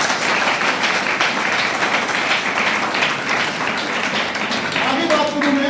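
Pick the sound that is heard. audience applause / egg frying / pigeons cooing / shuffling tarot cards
audience applause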